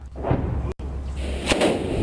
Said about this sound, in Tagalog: tunog ng sumasabog na bomba